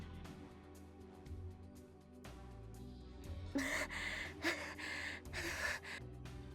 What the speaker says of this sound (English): Breathing sounds.